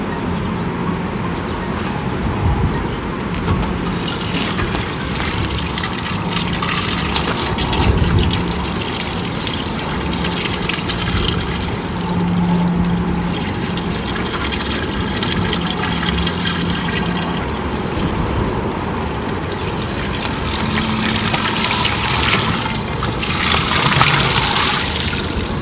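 Water runs steadily from a broken RV sewer hose on a fifth-wheel trailer, a continuous trickling gush with no pauses, close and moderately loud throughout.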